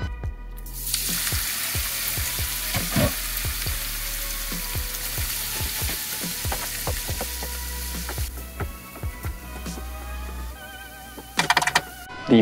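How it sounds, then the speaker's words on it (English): Onions and garlic cooking in a pan on a stovetop, giving a steady close sizzle with scattered small clicks and pops, later thinning into lighter crackling. "The next step is just gonna be to cook the onions and the garlic. That's just throwing them on the stovetop"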